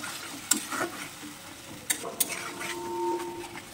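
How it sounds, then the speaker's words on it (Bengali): Ground spice paste frying in a pan with browned chopped onion for a beef tongue curry, a soft sizzle under a few sharp spoon taps and scrapes against the pan as it is stirred. "এখন আমি মশলাটাকে ভালো করে কষিয়ে নেব।"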